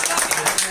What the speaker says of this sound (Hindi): ताली और बजाओ।